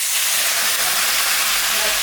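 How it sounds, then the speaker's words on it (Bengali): Water poured onto hot fried spices in a pan for a Bangladeshi tangra fish curry throws up a loud, continuous hiss of steam that fills the whole moment without a break. "মশলাটা ভাজা হয়ে গেছে, এখন আমি জল দেব।"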